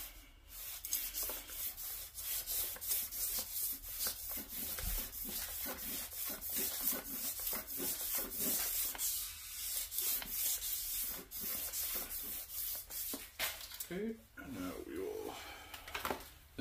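Sandpaper rubs back and forth over a Mustang crankshaft journal in quick, repeated scratchy strokes, close and continuous throughout, with some handling noise near the end.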